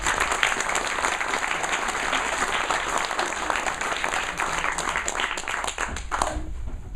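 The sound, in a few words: audience applause for poet Bob Mitchell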